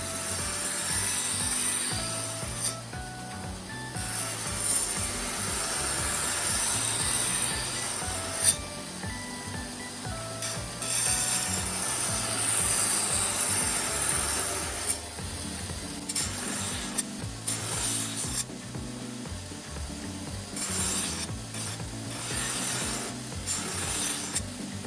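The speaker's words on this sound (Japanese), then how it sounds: "60番のベルトでキラと切れ刃を作っていきます。" A belt grinder fitted with a coarse 60-grit belt grinds the bevel of a Damascus steel single-bevel Japanese knife. It is a loud, continuous rasping whir that swells and eases as the blade is pressed and lifted, and no voice is heard.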